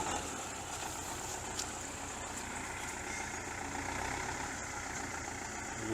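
A tractor working a village garden plot, its engine droning steadily and continuously at moderate distance, with no voices over it.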